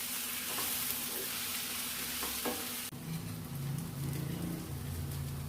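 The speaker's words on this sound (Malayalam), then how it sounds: "ഇനി നന്നായി ഒന്ന് മിക്സ് ചെയ്ത് കൊടുക്കാം." A mackerel curry being stirred after chili powder and fish masala go in, a steady dense sizzle with soft scraping, close by, that shifts partway through to a quieter bubbling hiss.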